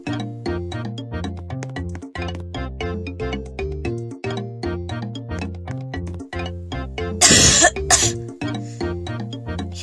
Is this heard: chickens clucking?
no